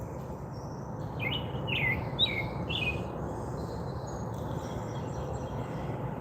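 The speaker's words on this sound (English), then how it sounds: "That's a robin sound." Robin singing outdoors, a short run of four or five clear, bright whistled phrases at moderate distance, followed by fainter scattered chirps over a steady low background rumble.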